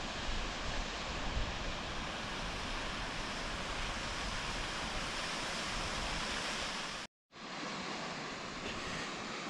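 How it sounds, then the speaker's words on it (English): Long, tall waterfall near a roadside in Cherrapunji (Sohra), Meghalaya, roaring as a steady, loud broadband rush of falling water that fills the scene, broken by one brief dropout before the constant roar resumes. "It's a fine, long, majestic, beautiful waterfall"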